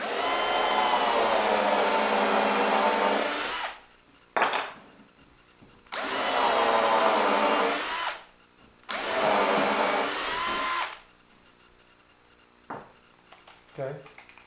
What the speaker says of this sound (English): with a 3/16 bit, I'm going to drill through one and then right through the other